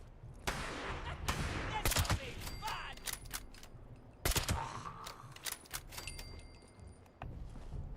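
Gunfire in the Fallout 76 video game, with several sharp shots and short bursts scattered across the clip over a steady game background, with faint voice activity.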